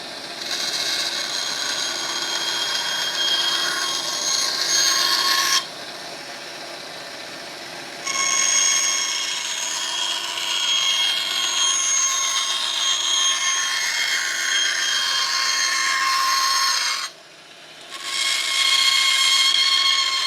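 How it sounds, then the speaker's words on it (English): A bandsaw rough cutting a welding plate blank, a loud steady whine and buzz broken into cutting passes with short quieter gaps between them. "then I can rough cut it out on the bandsaw"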